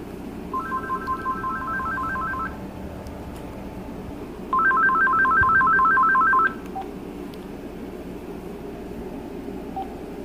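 An AT&T CL82301 cordless phone, handset 3, sounds its intercom ring: two bursts of rapid, warbling electronic trills, each lasting about two seconds and separated by a pause, heard close over a steady low hum.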